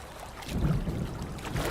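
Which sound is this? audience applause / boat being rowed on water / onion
boat being rowed on water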